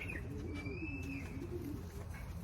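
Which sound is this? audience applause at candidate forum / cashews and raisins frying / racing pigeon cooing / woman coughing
racing pigeon cooing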